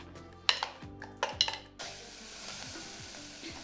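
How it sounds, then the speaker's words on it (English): Mashed banana stirred in a saucepan over low heat: a few sharp metallic spoon clinks and scrapes at the start, then a soft, quiet simmering hiss. "So keep stirring the banana over a low heat until the sugar is dissolved and the banana is hot"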